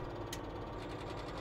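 Base-game Lamborghini 270 VRT tractor in Farming Simulator 17 running with a steady, low rumbling engine drone and fine rhythmic knocking, close and continuous without talk.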